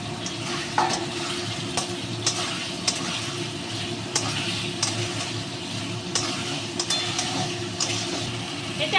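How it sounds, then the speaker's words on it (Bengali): Potato and pointed gourd pieces being stir-fried together with spices in a pan, a continuous sizzle under repeated scraping stirs of a spatula, close and fairly loud, with no talk. "এবার আমি আলুটা আর পটলটা দিয়ে নিচ্ছি একসঙ্গে কষে নেবো"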